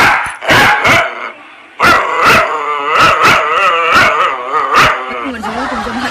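Dog barking sound effect: loud, repeated, rhythmic barks close up, with howl-like tones between them, filling the whole stretch.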